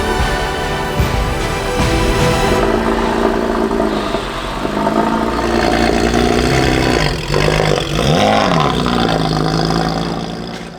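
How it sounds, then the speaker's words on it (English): Porsche 996 Carrera fitted with a 4.3-liter engine that revs to 8,000 RPM, running loud and close with a steady engine drone and a rising-then-falling rev sweep near the end, no talking. "Now the car is up and running"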